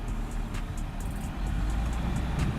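A Land Rover Defender driving off-road, its engine a steady, loud low rumble that swells slightly as the throttle opens, with faint rattles and ticks over the top and no talk.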